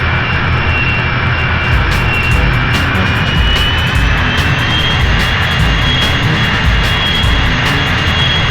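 A jet aircraft engine roars in the 007 Racing video game, a loud, steady, close droning whine with a deep low rumble that holds unbroken throughout, with faint ticking game effects above it.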